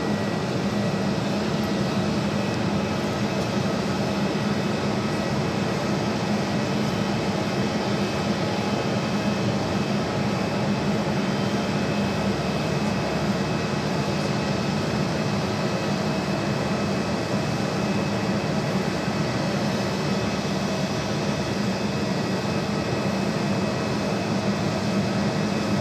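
Boeing 787-8 Dreamliner jet at Phoenix Sky Harbor airport, departing for Dallas Fort Worth, producing a steady, loud broadband engine roar that holds constant throughout with no pauses.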